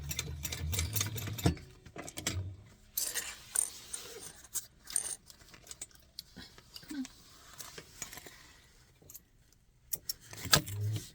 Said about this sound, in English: And we'll top stitch right along that seam.